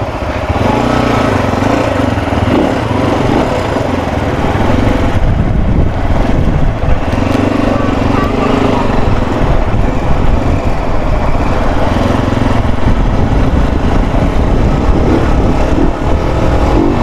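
An RX3 motorcycle engine drones loudly and steadily while it is ridden, with rushing road and wind noise that rises and falls a little throughout.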